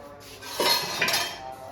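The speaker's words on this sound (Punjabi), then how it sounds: "ਹੁਣ ਮੈਂ ਕਰ ਦਿੰਗੀ ਭਾਂਡੇ ਸਾਫ" Dishes, pots and pans clink and clatter during washing up, two brief bursts of metallic knocks in a quiet home kitchen, fairly close and moderately loud.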